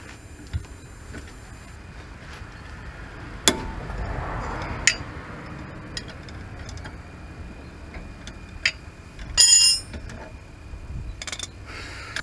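A 17 mm wrench and socket work loose nuts and bolts while removing the transmission from a Nissan R50 Pathfinder, with scattered metallic clicks and ticks, a couple of sharper clanks and a brief ratcheting burst.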